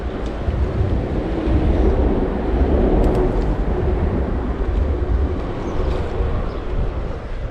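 A passing train rumbles steadily and loudly for several seconds, with a broad low roar and some wind buffeting; a few faint clicks sit on top and no one talks.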